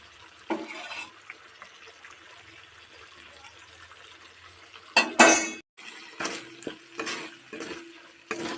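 Fried spice mix goes into a mango and ginger pickle, with spoon scrapes, clinks against the pot and stirring sounds in irregular bursts, close and fairly quiet.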